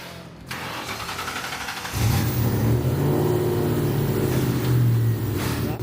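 A Ford Mustang GT with engine trouble is started in a garage: after a brief crank, a loud steady idle kicks in and holds with a low rumble throughout.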